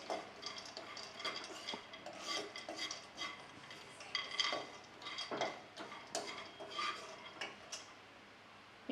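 A spoon stirs almonds roasting in a pan at home for a coconut dry-fruit sweet, giving steady close scraping and light clinks against the metal, with soft rattling pieces and no talking.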